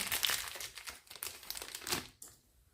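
Plastic packaging around a new horse saddle crinkles and crumples in close, busy bursts of rustling, with a brief tearing sound, easing off toward the end.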